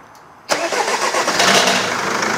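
An old car, over 13 years old, starting up at a mechanic's workshop: a sudden loud catch of the engine that settles into a steady, close idle.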